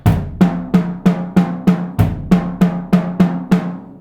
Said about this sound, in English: now I'm doing the paradiddle diddle with a foot substitution for the first right hand.